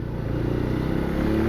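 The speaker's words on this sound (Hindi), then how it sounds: "बहुत ज़्यादा ट्रैफिक है यहाँ, बहुत ज़्यादा जाम लगा हुआ है" A Bajaj Pulsar N125 motorcycle rides slowly through a dense traffic jam, its steady low engine hum close and continuous, with a busy road murmur of surrounding vehicles behind it.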